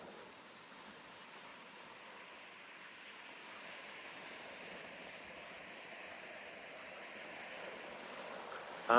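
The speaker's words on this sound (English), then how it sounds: "the wind's picked up a tad as we go towards the sea" Faint, steady wind rushing near the sea at Anderby Creek beach, with a soft surf-like wash, slowly growing a little stronger, ending in a brief gust against the microphone.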